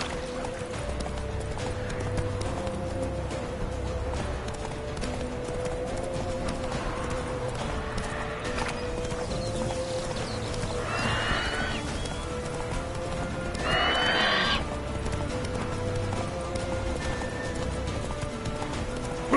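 Hoofbeats of a galloping horse in The Witcher 3 pound steadily beneath a thick layer of game music and ambience, with a brief neigh-like burst partway through.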